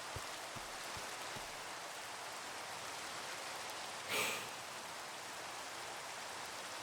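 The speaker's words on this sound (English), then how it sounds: "since it's raining, I don't know if it's time to sleep or not" Steady rain falls in Minecraft, a continuous even hiss with no voices, swelling briefly into a slightly louder burst partway through.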